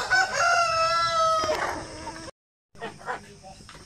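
Roosters crow at a backyard chicken farm during a typhoon, a long harmonic cock-a-doodle-doo ringing out near and loud, followed after a brief gap by more clucking and farmyard noise.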